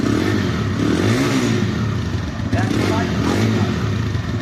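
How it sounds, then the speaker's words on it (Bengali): A TVS Raider 125cc motorcycle engine idles and runs close by with a steady low rumble, while a person talks over it. "বাইকের ইঞ্জিন সাউন্ড আপনাদেরকে দেখিয়ে দিই"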